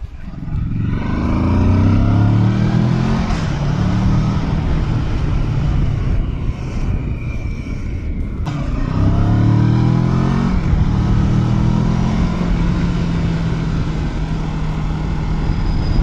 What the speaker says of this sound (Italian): per quanto possa essere fastidioso il rumore di un motore